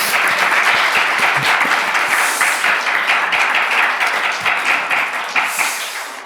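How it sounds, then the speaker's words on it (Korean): A church congregation applauds during an Easter Sunday service, steady close clapping from many hands that carries on throughout with slight swells. "우리 박수로 축하하겠습니다."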